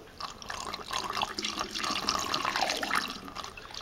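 Homebrew yeast starter is poured through a funnel into a fermenter of English barleywine, making a steady, close, gurgling liquid pour that runs for several seconds with no talking.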